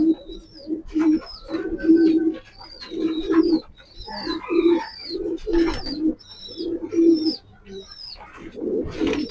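Racing pigeons, a breeding pair offered for sale, coo in a steady run of low throaty calls close by, with some higher chirps from other birds mixed in and no talking.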